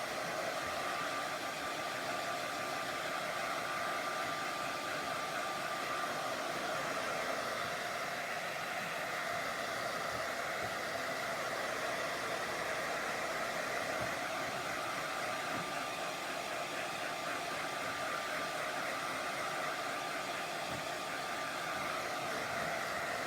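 A hair dryer blows steadily on wet paint on a stenciled primitive wood sign, a loud, even rushing hiss that runs unbroken throughout with no voices.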